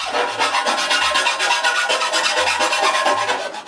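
A hand file scrapes along the edges of a metal plate for a wooden jointer tabletop in fast, steady back-and-forth rasping strokes, loud and close with no talk.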